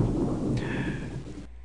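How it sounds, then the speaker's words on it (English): Thunderstorm in The Oregon Trail 5th Edition computer game: a continuous, loud roll of thunder over steady rain. A higher rumbling streak joins midway, then the sound cuts off abruptly near the end. "wow, there's a lot of thunderstorms"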